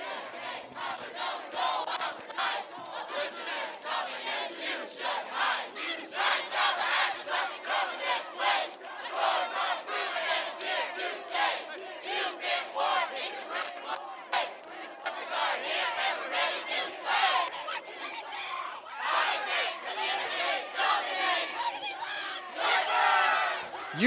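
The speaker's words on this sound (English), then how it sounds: "So we just have some cheers going on the other pitch." The Alberta Clippers quadball team chants and cheers together before a game at a national championship, a sustained crowd of voices rising and falling in rhythmic shouted bursts, heard from a short distance.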